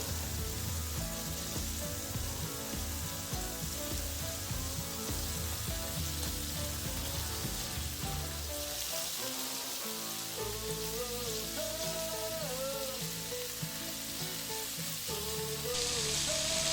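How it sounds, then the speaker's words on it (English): Tofu sizzles and browns in a hot pan for a stewed vegan Korean dish, a steady loud crackle broken by a brief shuffle midway, with no talk. "So we're gonna flip the tofu, make sure it gets brown."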